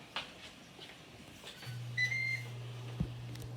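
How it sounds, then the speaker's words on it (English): A kitchen timer is set for a grill cook, giving a few short high beeps and a sustained electronic tone alongside a low steady hum, with faint handling clicks around them. "I'm gonna set my timer for 4 minutes this time"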